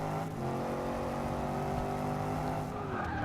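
Range Rover engine in the racing game Forza Motorsport 6, revving hard at a steady high pitch with layered engine harmonics and a hint of tire noise, loud and close throughout, the pitch sliding upward near the end.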